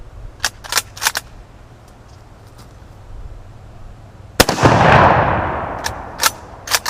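A sporterized Mosin Nagant Type 53 rifle fires one loud, close shot whose blast rolls off in a long echo, with sharp metallic clicks and clacks of the action before and after.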